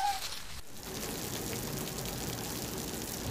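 Steady rain and wind hiss through the night as a constant wash of patter and gusting noise, moderately loud and unbroken, with no one speaking.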